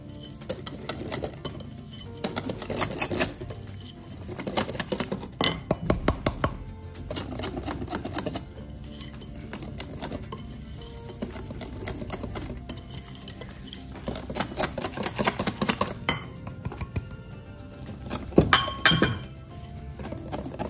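A spoon stirs cake batter in a bowl for a quick homemade pie, with repeated clinks and scrapes against the bowl in an uneven rhythm, close and moderately loud, no voices.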